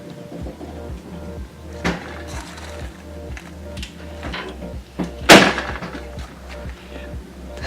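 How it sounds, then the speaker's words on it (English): A sharp door slam stands out midway above a steady mechanical thumping and clatter, with a few softer knocks around it. "the door slamming honestly is probably the best one"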